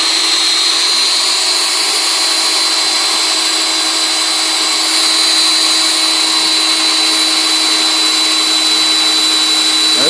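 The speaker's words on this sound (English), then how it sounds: "it's going to basically guide the drill bit in" Steady, loud drill whine boring pocket holes through a Kreg pocket hole jig, a continuous high-pitched motor drone held without pause for the whole stretch, close and alone with no voices.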